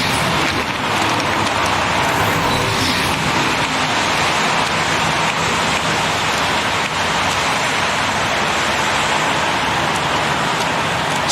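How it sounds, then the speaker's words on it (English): Steady rain in the video game Heavy Rain falls as a dense, even wash that holds at a constant loud level with a faint low traffic-like rumble beneath and no talking. "Does it always rain like this?"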